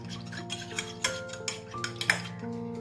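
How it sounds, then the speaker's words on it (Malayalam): Eggs are lightly beaten in a bowl for muffins, giving quick, soft clinks and taps in a loose rhythm over a steady tonal background hum. "മുട്ട ചെറുതായിട്ടൊന്ന് നമ്മളൊന്ന് അടിച്ചു കൊടുക്കണം"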